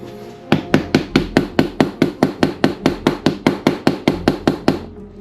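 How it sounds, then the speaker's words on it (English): A grease cup is tapped to settle the remaining grease, about twenty sharp, evenly spaced knocks in a quick steady rhythm, close and loud, ending abruptly. "That's just me trying to get what little grease I got left to the bottom of the cup"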